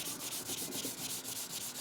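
Hand sanding the tailgate of a Tesla Model Y with 400 grit sandpaper: steady back-and-forth rasping strokes in a quick regular rhythm, close and fairly loud, with no talking.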